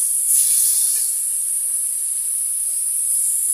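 Water poured into a hot pan while cooking bhel bhal ki sabji gives a loud, steady steam hiss that swells at first, then holds evenly and close throughout, with no talking.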